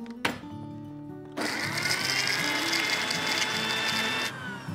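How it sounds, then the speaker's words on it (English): A small blender whirs loudly and steadily for about three seconds, blending green garnish elements for a watermelon and pomegranate gazpacho, then cuts off sharply; a brief clatter precedes it. "We'll take a smaller blender because we don't need such a large blender for our green elements."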